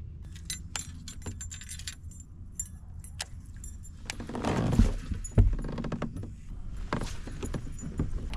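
A plastic fishing bait rattles with light, scattered clicks and jingles, faint and close, over a low background rumble out on the California Delta.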